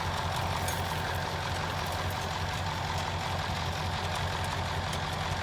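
A Massey Ferguson 1155 tractor pulls a 28-foot field cultivator, its engine a steady low rumble that holds even and unbroken, heard from a moderate distance.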